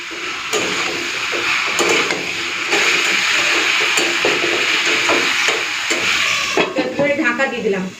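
Potatoes, pointed gourd and prawns sizzling and frying in spice paste in a pan, a loud steady hiss with occasional stirring clatter close by, while a person speaks over it.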